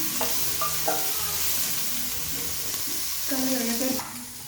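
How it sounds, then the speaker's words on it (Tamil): Chicken frying in a pan over high flame, a loud continuous sizzle with a few stirring scrapes and a sharper burst of hissing near the end, no talk. "இது வந்து சிக்கன் வந்து ஃப்ரை ஆகிட்டுருக்கு, ஆயிடுச்சு ஆல்மோஸ்ட்டு"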